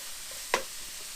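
Ground beef for enchiladas frying in a pan gives a steady, close hiss of sizzling, broken once by a brief scrape of stirring, with no talk.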